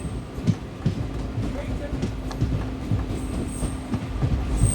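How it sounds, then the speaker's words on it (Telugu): An SMVB–Hatia train at a station, a steady low rumble with rhythmic wheel clatter and occasional faint squeals, loud and close, with people talking faintly in the background. "SMVB హతియా ట్రైన్ అది."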